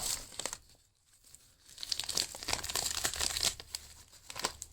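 A taped-up package of dormant plants is unpacked up close, with bursts of crinkling and tearing packing material after a brief pause, busy and irregular.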